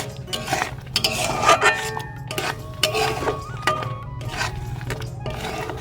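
Ghee being stirred into a palm fruit sweet mixture in a pan, a spoon scraping and clinking against the metal in uneven strokes over a low steady hum, close and fairly loud.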